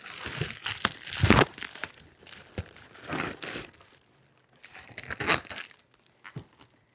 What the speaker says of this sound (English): This bubble wrap is intense.